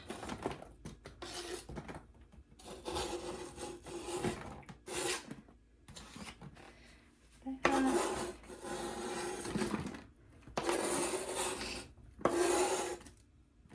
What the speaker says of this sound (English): And now I'm going to add onions to each bag, and I did use fresh